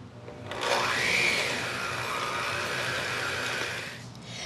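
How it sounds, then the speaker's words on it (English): Electric mixer whirring through cream cheese, sugar and vanilla extract for a gluten-free cheesecake, spinning up to a loud steady drone that holds for about three seconds and then winds down, close by and with no talking. "we've blended the cream cheese, the sugar, and the vanilla extract"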